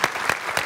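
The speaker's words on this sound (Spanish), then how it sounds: "Fuerte el aplauso para esta gran mujer," Studio audience applause on a late-night Spanish-language TV talk show, a short burst of dense clapping swelling in three quick waves, loud and close.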